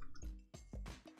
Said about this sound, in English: make sure to rinse your brush off